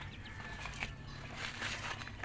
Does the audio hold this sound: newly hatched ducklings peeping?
yes